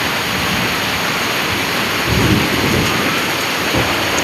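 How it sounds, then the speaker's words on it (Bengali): Heavy rain pours down steadily in a dense, loud wash, with deep rumbles of thunder swelling briefly near the middle and again toward the end. "দেখুন কত জোরে বৃষ্টি হচ্ছে।"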